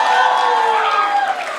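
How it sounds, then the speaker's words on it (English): A festival audience in Melbourne roars with cheers and whoops, a loud continuous crowd wash of voices celebrating a young performer. "Big round of applause for Laksh,"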